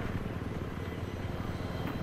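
Attack helicopter in the Battlefield 3 video game on the Riverside map, a steady low rotor drone with engine rumble that holds constant throughout, no voices.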